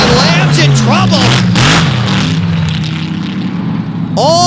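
A modified race car at an MRA dirt-track open and mod final accelerates hard with a loud, sustained engine drone and rising harmonics under continuous commentary, with a brief sharper burst near the end.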